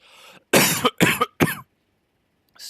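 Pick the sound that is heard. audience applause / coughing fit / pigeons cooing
coughing fit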